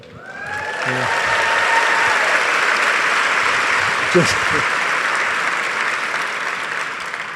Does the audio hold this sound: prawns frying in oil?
no